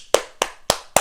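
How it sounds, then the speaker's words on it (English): Four sharp hand claps at a steady, slightly uneven pace, close and fairly loud, each a crisp broadband snap with a short tail and nothing else around it. "I can clap my hands."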